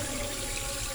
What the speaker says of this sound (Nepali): धारा बन्द गर्नै आउँदैन त्योमा